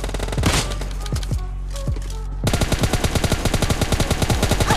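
Kar98 and M416 gunfire in a shooter video game: a few sharp, spaced single shots and one pause, then a fast, steady automatic burst of close, loud rifle fire.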